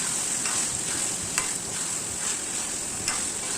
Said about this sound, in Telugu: ఈ చికెన్ని మనము గిన్నె లోపల వేసుకొని చక్కగా కలుపుకోవాలి